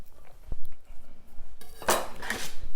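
A knife slices thin asparagus on a cutting board in a kitchen, making soft taps and then a brighter rasping stroke near the end, close and moderately loud, with light clatter of utensils.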